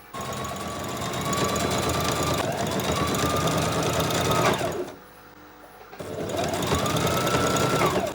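A sewing machine stitching cloth for a shawl runs in a loud, close, rapid mechanical whir, stops briefly for about a second, then starts up again.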